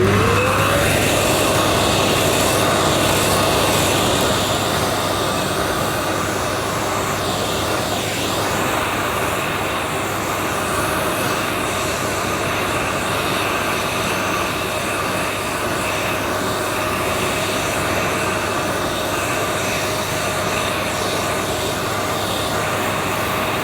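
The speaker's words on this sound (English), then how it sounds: "I'm drawing the nozzle back to suck up, hopefully, the dirty solution with the stain" A Thomas Aqua Plus vacuum nozzle draws dirty cleaning solution out of a stained upholstery spot, a loud, steady whooshing suction roar that holds constant for the whole stretch with no talking.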